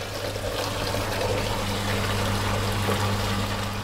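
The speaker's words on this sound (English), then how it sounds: "Watch the flowing of the water into the" Water flows into a hydraulic bench during a laboratory experiment on energy losses in pipe fittings, heard as a steady, continuous rush of water over a low pump or motor hum, even in level throughout.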